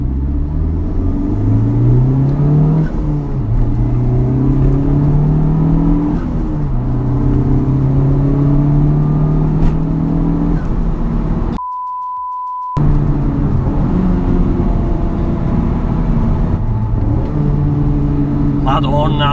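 Honda Civic Type-R FK8, a front-wheel-drive car, revs hard and accelerates close up, its engine note climbing repeatedly between gear changes with one brief dropout partway through.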